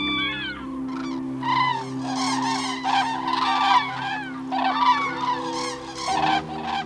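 A flock of cranes calling on an autumn sandbank before migration, a dense chorus of overlapping trumpeting and honking calls, steady and fairly close throughout.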